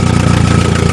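A Nissan 200SX idles loud and close through a modified exhaust muffler fitted with a tractor cover. It makes a steady, throbbing low rumble with an even pulse, and no talking is heard.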